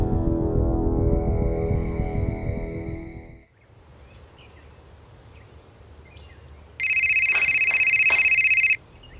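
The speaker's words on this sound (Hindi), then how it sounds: "राकेश भैया, आपका फोन बज रहा है।" An electronic phone ringtone trills loudly for about two seconds after a stretch of dramatic music and quiet insect-like ambience, sounding close and clear in an indoor setting.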